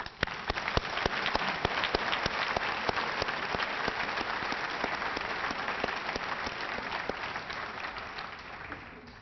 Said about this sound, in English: please join me in a round of applause for honoring our non-commissioned officer corps